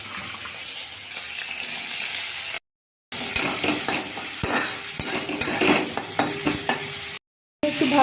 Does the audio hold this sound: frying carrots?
yes